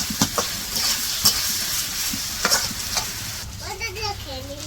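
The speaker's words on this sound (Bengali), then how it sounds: "টমেটো আর পেঁয়াজ তো ভাজা ভাজা করে নিল" Tomatoes and onions sizzle steadily in a hot pan for a village-style quail dish, with repeated scraping stirs knocking close by and a short voice coming in near the end.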